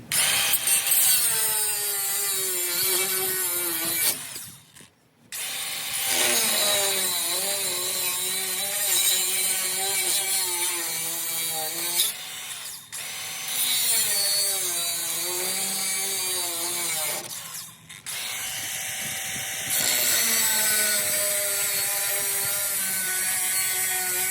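Steel frame rails of a 1964 Ford F600 truck are cut with a tool that throws sparks, making a loud, continuous abrasive whine that wavers in pitch and breaks off for brief moments a few times.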